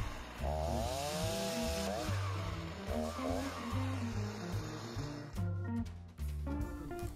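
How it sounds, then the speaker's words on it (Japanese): Chainsaw bucking a fallen tree log into firewood rounds, engine revving up and down in bursts as the bar cuts carefully, loud and close, with a brief lull before the last cuts. "この裏側もチェーンソーで削るんですが、ここには小石が挟まってる時があるんで、様子を見ながら少しずつ削ります。"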